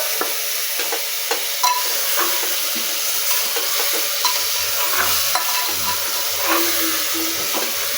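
Chicken and potatoes being stirred in a pan for a yogurt chicken curry, with a steady soft sizzle and hiss, occasional light scraping and clinks of the spoon, no talking.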